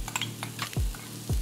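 Chopped onions hit neutral oil in a hot pot, giving a steady sizzle with scattered clinks and two distinct low thumps of stirring or scraping against the pot, with no speech.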